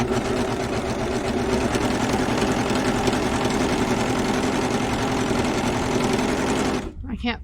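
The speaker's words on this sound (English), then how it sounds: "there we have a 3-thread serge that unfortunately I have not driven very straight for." A serger runs steadily, sewing a 3-thread serge along knit fabric with a fast, even mechanical chatter that holds for several seconds before stopping abruptly, followed by a quick clunk.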